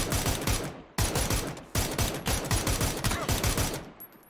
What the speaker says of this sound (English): Oh, getting shot from up there